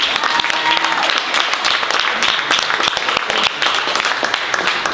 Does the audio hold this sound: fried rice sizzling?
no